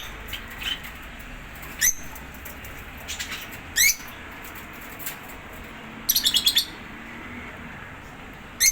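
A lovebird kept among other birds lets out short, scattered chirps and a quick run of rapid tweets, with brief flutters against a quiet background.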